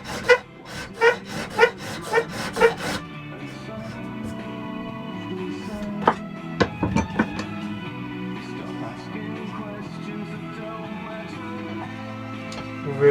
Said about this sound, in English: as you sand it, contours the whole surface